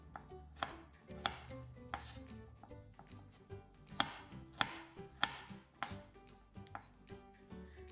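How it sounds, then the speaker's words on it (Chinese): Knife slicing garlic cloves into thick slices on a cutting board, a steady series of sharp chopping taps at an uneven pace, close and clear with no talking. "蒜切成蒜片，蒜片不要太薄"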